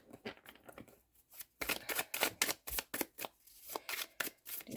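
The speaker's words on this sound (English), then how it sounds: "I do feel I need to do one more bridge shuffle here." Tarot cards riffled together in a bridge shuffle, a rapid fluttering burst followed by a few softer taps and riffles.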